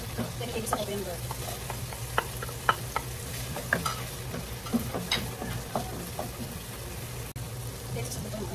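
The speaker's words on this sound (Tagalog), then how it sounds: "igisa ko po yung butter." Butter sizzles and fries in a pan, a steady close crackling hiss with occasional small pops and stirring clicks running throughout.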